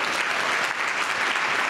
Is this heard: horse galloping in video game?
no